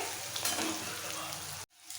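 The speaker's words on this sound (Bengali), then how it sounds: "পেঁয়াজ ভাজা হয়ে গেছে" Onions fry in a pan for chicken posto, giving a loud, dense, continuous sizzle close up that cuts off abruptly near the end, leaving near silence.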